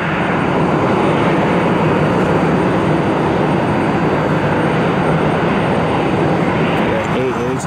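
Aircraft taxiing in on an airport ramp at Cleveland Hopkins, a steady loud engine roar and rumble filling the whole stretch without letup.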